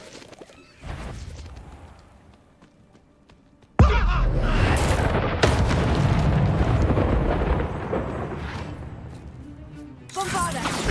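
A Bombarda spell explodes in a video game: a sudden loud blast gives way to a sustained roaring crash and rumbling debris, and a final burst follows, while voices talk over the game sounds.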